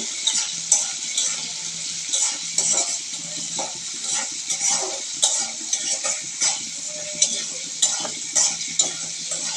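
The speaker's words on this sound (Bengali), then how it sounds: "সুন্দর করে নড়াচড়া করতেছে" Capsicum frying in a pan while being stirred, a bright steady sizzle broken by frequent scraping strokes and light clinks of the spatula against the pan, close and fairly loud with no talking.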